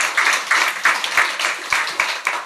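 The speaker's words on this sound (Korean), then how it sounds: "우리 경의의 박수 하겠습니다." A church congregation claps for its choir in a steady, even stream of hand claps that fills the space from start to finish, with no talking.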